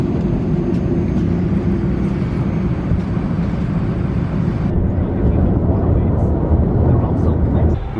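Airplane cabin noise during a flight to Bangkok forms a continuous low engine drone with a steady broadband hiss, loud and unbroken, with the upper hiss dropping away partway through.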